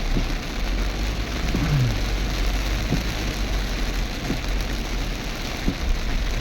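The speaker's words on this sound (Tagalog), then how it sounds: "grabe ang lakas ng ulan dito guys" Heavy nighttime rain drums on a mini van while driving near Coronadal, a constant loud patter over a low engine rumble, without talk.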